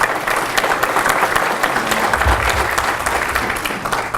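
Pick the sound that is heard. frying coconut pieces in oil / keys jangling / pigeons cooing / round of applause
round of applause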